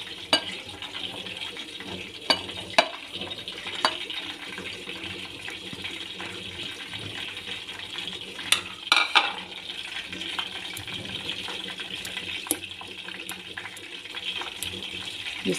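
Burger ingredients being stirred and mixed in a bowl while making mini burgers at home, a steady wet churning texture with occasional sharper clinks and knocks, moderately loud and without talk.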